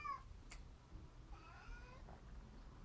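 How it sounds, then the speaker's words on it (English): A house cat meows softly in the background of a quiet room at home, with a short cry at the start and a few fainter, drawn-out calls later, with no talking. "Right now, I can hear my cat in the background."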